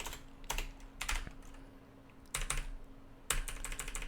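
Close, fairly quiet computer keyboard typing during coding work, heard as quick clusters of key clicks separated by short pauses over a low steady hum, with no talking.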